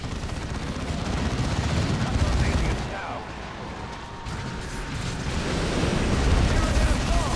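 Heavy gunfire and explosions from Warhammer 40,000: Dawn of War II rattle continuously in dense bursts, dipping briefly midway before swelling again, a busy battlefield din under occasional voices.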